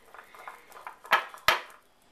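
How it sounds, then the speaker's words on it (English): Cake flour, baking powder and salt are whisked together in a bowl, giving light, quick scraping taps followed by two sharper clinks of the whisk against the bowl, quiet and close. "take the rest of my cake flour and add my baking powder and salt to it and just give it a little whisk to combine it"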